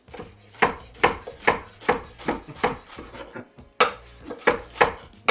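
A knife chops peppers on a cutting board in steady, evenly spaced strikes close by, with a short pause partway through and then more rhythmic cuts.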